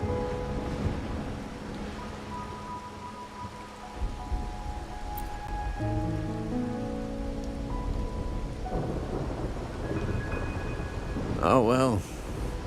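Steady rain pours down in the video game Wuthering Waves, a continuous wash with rumbling thunder beneath it, while music and other game sounds play over it.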